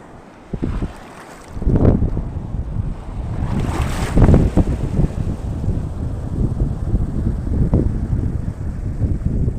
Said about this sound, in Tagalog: Ganda ng alon oh. Laki oh.